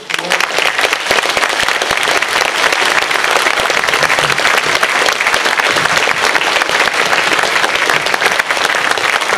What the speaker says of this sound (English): The first round of applause for both of them.